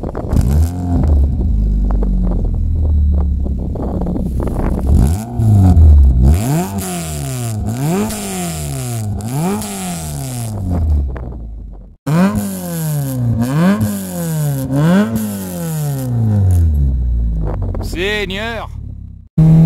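A Renault Clio 16S with a first-generation short-ratio gearbox revs hard while driving, its engine pitch rising and falling through repeated gear changes, with talk over the loud, close engine.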